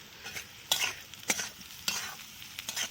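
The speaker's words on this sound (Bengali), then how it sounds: "চারটে পেঁয়াজ কুচি ছিল দিয়ে দিলাম" Chopped onions hiss and crackle in a wok alongside beans and carrots, while a spatula scrapes through them in several sharp, evenly spaced strokes close by.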